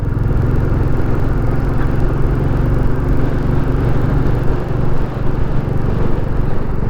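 A Royal Enfield Classic 350 motorcycle engine drones loudly and continuously under power, a low rumbling hum that holds even throughout.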